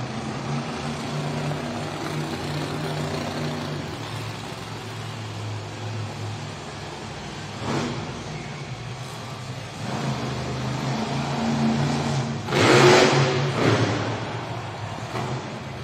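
A monster truck engine on BKT tires revs in an arena during a stoppie attempt, a steady low roar that swells into a loud burst near the end, with crowd-like wash beneath and no speech.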